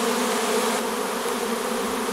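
A huge swarm of hybrid honeybees, dark with a little yellow, buzzes steadily at a Dadant 12-frame hive, a dense continuous hum close by with no voices.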